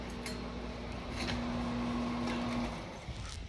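Loud air conditioning unit running indoors, a steady broadband hiss and hum with a faint sustained tone, continuous and fairly close with no talking.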